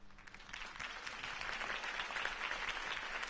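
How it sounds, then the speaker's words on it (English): Crowd applause fills a city campaign rally scene in the Batman Telltale Series video game, a sustained wash of clapping that swells slightly and holds at moderate distance. "My campaign's largest backer could have heard that applause."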